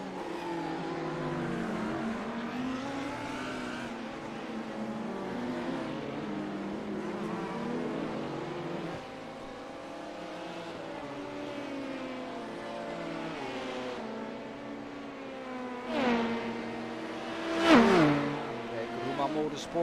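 A prototype race car in a sim racing endurance event at Sebring drones past with a rising and falling engine note, swelling to a close pass near the end, while a commentator talks throughout.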